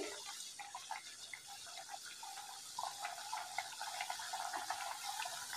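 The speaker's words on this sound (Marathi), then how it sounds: "अगदी मंद आचेवर आपल्याला हे तळून घ्यायचे आहे" Khari puff pastry pieces fry gently in warm oil over low heat, a soft continuous bubbling hiss with fine crackles, steady and close, no voices.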